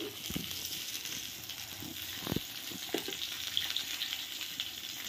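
Green chillies frying in a pan, a quiet steady sizzle with a few soft knocks and pops, no voices.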